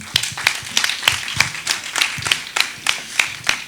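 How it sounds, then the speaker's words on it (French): A small group claps in a steady rhythm, crisp and fairly close, with no talking over it. "On l'applaudit."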